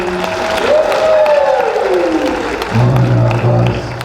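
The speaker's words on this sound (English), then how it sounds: "Everybody give her a round of applause." Applause and crowd noise fill a fan convention panel room, steady clapping mixed with a few cheers, while a voice and other tonal sounds rise above the crowd partway through.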